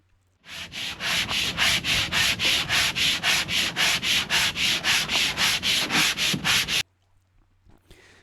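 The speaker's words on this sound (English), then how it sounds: "First a couple horizontal strokes, keeping the sanding block in line with the hull of the boat" Steady back-and-forth rasping of a sanding block on a hull, about twenty even strokes in a brisk rhythm, close and loud, then stopping.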